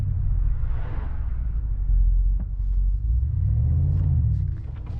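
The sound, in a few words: Mercedes-AMG G63 V8 engine rumble pulling away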